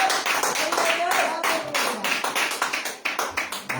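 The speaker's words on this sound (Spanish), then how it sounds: "Un aplauso a Jesucristo" A church congregation claps for Jesus Christ during a sermon, a loud, fairly close sequence of sharp individual claps in a loose, uneven rhythm that thins out toward the end.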